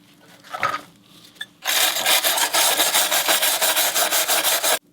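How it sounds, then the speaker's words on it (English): Rust being scrubbed off a bare metal motorcycle seat pan, a few soft scrapes then a sustained run of rapid, rhythmic abrasive strokes, close and loud, stopping abruptly. "In scrubbing off this outer layer of rust, I think it'll expose more of the underlayer of rust"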